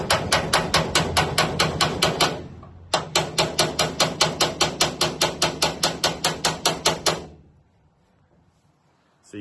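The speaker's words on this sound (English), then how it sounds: "then by hand rivet it together with these aircraft rivets" Hood of a 1962 Land Rover riveted by hand with aircraft rivets: rapid, evenly spaced metallic hammer blows in two long runs divided by a brief pause, then quiet.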